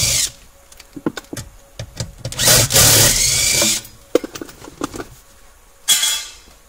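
A power tool whirs in short bursts and one longer run while backing out 10 millimeter bolts from a metal plate on the driver's side of a Nissan or Infiniti, with metallic clinks and rattles between, close up and without speech.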